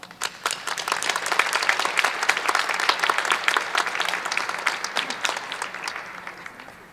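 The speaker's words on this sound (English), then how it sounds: "Please give a warm round of applause for Chanel." An audience at an awards event applauds an honoree, a warm, sustained wash of many hands clapping that swells and then slowly tapers off.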